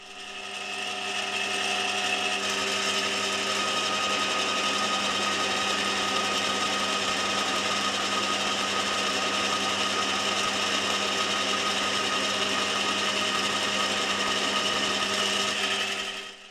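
A HAFCO AL320G metal lathe runs steadily while turning a dowel section, a constant even mechanical whine with layered tonal hum that holds at one level for the whole stretch, close and unbroken, with no voices.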